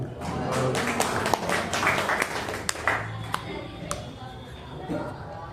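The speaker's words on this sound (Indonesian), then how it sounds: "beri tepuk tangan untuk pemateri" An audience at a teacher-training presentation in West Java applauds the speaker, a dense patter of clapping that swells and then thins to scattered claps as it fades.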